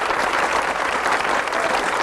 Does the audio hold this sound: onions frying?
no